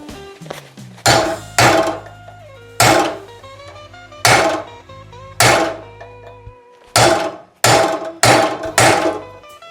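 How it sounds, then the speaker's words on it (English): A chisel hammered against a cut bearing retaining ring on a 1964 Chevrolet Biscayne build, about a dozen loud metallic hammer strikes in uneven bursts, each ringing briefly, close and without talk. "So I'll just try and snap it with a chisel here."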